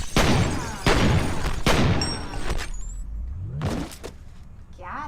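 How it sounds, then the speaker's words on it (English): Several loud gunshots ring out in a video game, three sharp blasts in quick succession followed by a sliding whoosh and another report, with echoing tails and brief speech in between. "I'm gonna shoot him."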